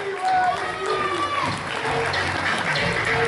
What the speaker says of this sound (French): Et on peut applaudir Thierry bien fort aussi quand même.